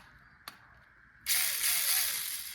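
A single sharp click, then a small 1/43-scale Jiabaile RC car motor whirs up loudly and runs steadily at full speed with a slight wavering pitch.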